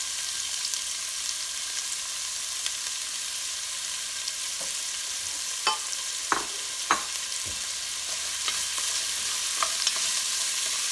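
Diced carrots, celery and onions sauté in about three tablespoons of oil, a constant soft sizzle broken by several sharp clicks and scrapes of stirring.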